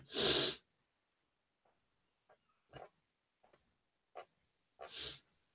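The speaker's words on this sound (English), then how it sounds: "First sneeze on YouTube." A single sharp sneeze bursts out loudly at the start, followed by quieter sniffs, breaths and small mouth noises, with a second louder burst near the end.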